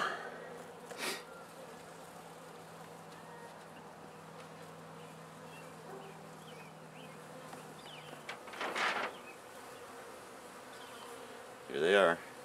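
A soft, steady honeybee buzz hums in the background as bees clustered on a screen are released at a hive, with a few brief louder rustles and bursts of closer buzzing breaking in.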